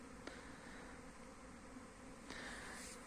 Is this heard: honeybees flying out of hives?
yes